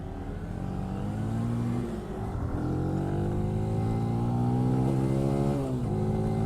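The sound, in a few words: motorcycle engine revving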